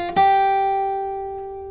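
Guitar plays a four-note run from the riff of a song, a plucked attack sliding into a sustained note that rings and slowly decays, close and clear with no talking.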